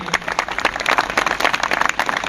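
An audience at an outdoor farmers' rally in Gujarat claps for Maheshbhai, a brief burst of steady, moderately distant applause with no voices over it.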